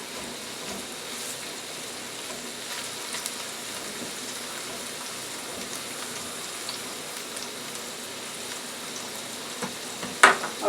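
Seafood ramen with onions, peppers and mushrooms stir-frying in a pan, giving a steady dense sizzle that runs throughout like light rain, close and even, with a few soft clinks near the end.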